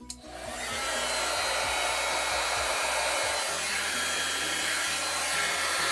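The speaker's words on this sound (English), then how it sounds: "I'll just grab the heat gun." Heat gun blowing steadily to heat and melt material on a tall snowflake-themed box, a loud, continuous airy roar that starts with a brief click and holds unbroken throughout, without speech.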